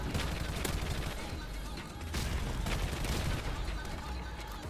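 XMLAR rifle fire in Modern Warfare Remastered, dense rapid bursts of shots rattling continuously at close range with a brief dip partway through, talk faintly beneath.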